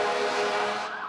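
An ambulance siren wails steadily and loudly, its tone holding with a slight upward sweep near the end, with no voices present.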